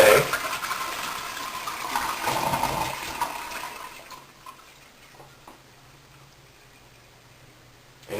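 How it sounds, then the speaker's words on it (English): A household toilet flushes fully with its handle held down, a loud close rush of draining water that fades after a few seconds into near silence, with a faint clunk at the end. "We're going to hold the handle down, and we're going to flush it all the way."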